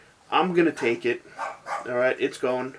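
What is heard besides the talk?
dog named Lady barking in the background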